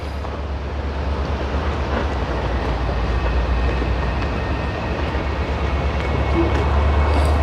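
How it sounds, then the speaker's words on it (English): A loud, continuous rumble of Union Pacific trains rolling through the rail yard at North Platte, Nebraska, with a broad steady roar and faint metallic squeals, no talking. "we moved up here so that we could see the trains moving plus hear them a little bit better"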